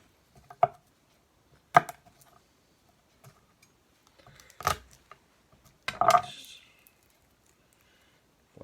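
A kitchen knife cuts the stem off an ingredient for beef bourguignon on a board, four or five sharp separate chops spaced a second or so apart in an otherwise quiet room.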